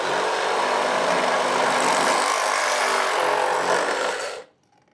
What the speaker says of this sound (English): now we can go ahead and cut our pipe to the correct length